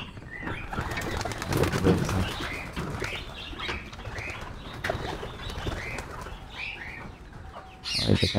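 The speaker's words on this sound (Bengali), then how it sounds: "এই দেখেন মাশাআল্লাহ অনেকগুলা কবুতর" A flock of many pigeons kept near chickens on a small farm coos in repeated overlapping calls, with bursts of wing flapping and occasional hen clucks mixed in, steady and fairly close.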